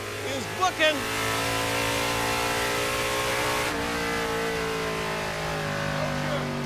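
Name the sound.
1956 Chevy field car engine on drag strip run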